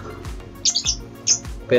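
African lovebirds in a cage give several short, sharp, high chirps in quick bursts, close by, over a faint low background hum.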